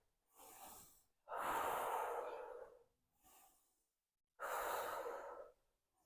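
Three slow breaths drawn and released through the nose during a hip and lower back stretching class, close and soft, each airy inhale or exhale lasting one to two seconds with quiet pauses between.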